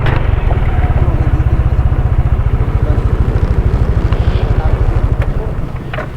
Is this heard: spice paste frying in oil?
no